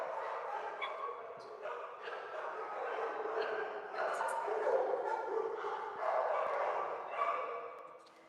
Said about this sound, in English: I just saw a dog in the puppy room